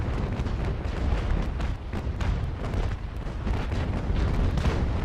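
Cannon fire in the naval combat game Naval Action during a PvP battle, a dense continuous barrage of booming shots and rumbling blasts layered over one another throughout, loud and sustained with no clear pauses.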